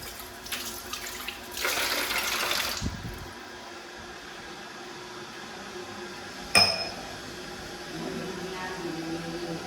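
Tap water runs into a kitchen sink while a glass is washed, a soft hiss that starts and stops in bursts, with a sharp clink of glass partway through and quiet background sounds.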